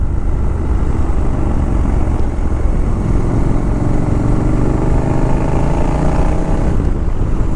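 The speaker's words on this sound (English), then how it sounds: "This exhaust note is just so intoxicating, man." A Triumph Scrambler 1200X motorcycle rumbles continuously while riding, its exhaust note loud and close with a deep steady drone mixed with wind, rising slightly in pitch toward the end.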